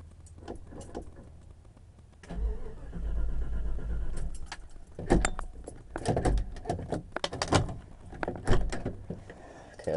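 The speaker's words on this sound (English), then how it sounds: "Don't you just love that Chrysler starter?" Chrysler starter cranking a cold 1989 Jeep Grand Wagoneer, a low whirring churn in uneven bursts mixed with jangling keys and clunks inside the cabin, without the engine catching.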